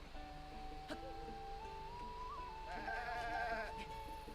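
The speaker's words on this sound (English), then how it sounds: "Hey, goat." A goat in the video game Zelda Breath of the Wild gives a wavering bleat over a steady low background hum, with no talking during the call.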